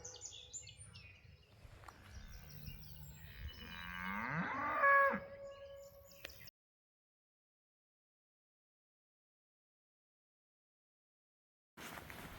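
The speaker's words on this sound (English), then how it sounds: "I don't think the cows are happy with me being here." Cows moo in a pasture along the Appalachian Trail, several bellowing calls rising over faint birdsong in the first six seconds, followed by a long silence before outdoor ambience returns briefly at the end.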